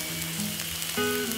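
Soy sauce sizzling in a hot pan over high heat while cooking at a mountain campsite in Gunma, a steady close hiss throughout with no talk.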